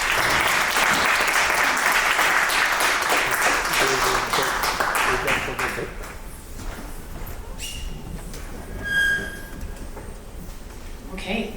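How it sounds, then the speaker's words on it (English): An audience at a tech event bursts into loud, dense applause that carries on for several seconds, then tapers off into scattered claps and room noise. "Another round of applause, please"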